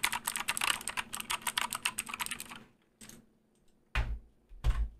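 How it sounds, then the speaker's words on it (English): Rapid, crisp keystrokes on a mechanical keyboard, close and clicky, in a continuous burst that stops and is followed by a few heavier thumps. "I get so much joy out of typing on this thing."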